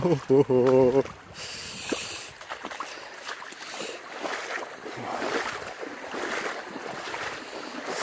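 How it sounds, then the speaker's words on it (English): Wading through an icy cold river crossing on a spring hike, with steady splashing and rushing water throughout and a brief burst of wind noise near the start. "just go through a river crossing."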